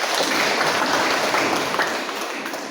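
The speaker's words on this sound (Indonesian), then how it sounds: "Tepuk tangan untuk kita semua." A congregation applauds at a church talk, giving dense, even clapping that fills the space and tapers slightly near the end.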